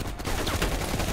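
A brief, dense blast of gunfire in the Call of Duty: Black Ops Cold War campaign, loud and close, with no gaps.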